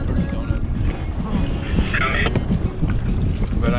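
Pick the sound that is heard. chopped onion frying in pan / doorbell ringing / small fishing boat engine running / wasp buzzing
small fishing boat engine running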